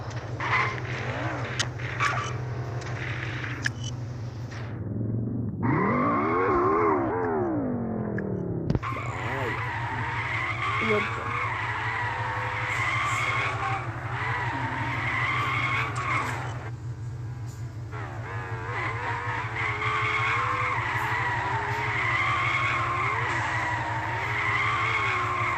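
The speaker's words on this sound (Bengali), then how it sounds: "ড্রিফট হচ্ছে এখানে" A car drifts in a racing video game, with sustained tire squeals and skidding over a loud, tonal engine whine that repeatedly climbs and drops in pitch, continuous throughout with no talk.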